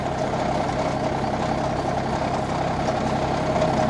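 Tractor engine idling with a post hole digger attached, set for digging into dry, hard clay, a steady close rumbling drone with a constant low pulse and no pauses.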